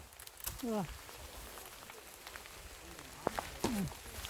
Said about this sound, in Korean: 지금 비가 좀 내리네요